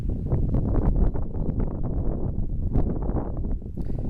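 Wind gusts steadily across an outdoor park-like area on a sunny day, a constant close rumbling buffet on the microphone throughout.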